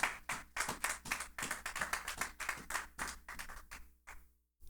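Church congregation clapping and cheering in praise during a French-language sermon, a dense burst of rapid hand claps that swells and then fades into silence.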